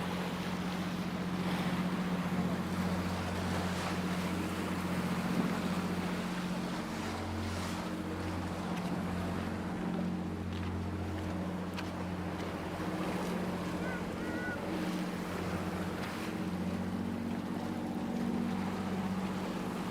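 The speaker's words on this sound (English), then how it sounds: "I think this is the water taxi." A water taxi boat on the sea at Hydra, Greece runs with a steady, low engine drone beneath a continuous wash of water and wind, with faint voices now and then.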